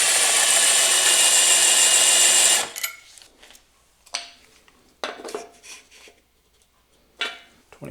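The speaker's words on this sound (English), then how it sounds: "This one's going to take a little more effort to file." A metal file rasps against a piston ring to open its end gap during engine building; one long, steady scraping pass is followed by several shorter, quieter strokes at irregular intervals, close to the microphone with no speech.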